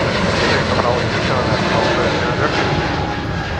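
An airliner taking off from Heathrow runway 27L, a loud continuous engine roar close by with broad rushing noise, while radio chatter plays underneath.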